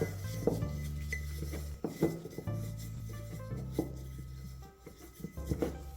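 Steel wool pulled apart by hand and dropped into a jar for making black vinegar stain gives close, continuous scratchy rubbing and rasping with a few light metallic clinks against the glass.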